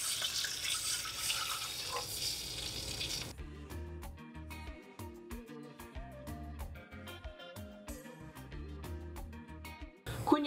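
Water running from a tap while cooking macaroni au gratin with conch, first a steady rushing flow, then broken splashes and trickles of varying loudness, close by.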